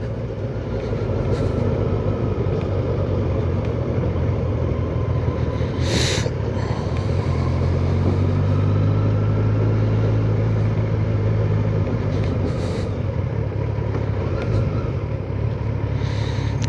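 Steady motorcycle engine and road rumble from a 2021 Kawasaki Versys 1000 on a demo-day ride, with wind noise and a rising low drone midway, continuous and close throughout.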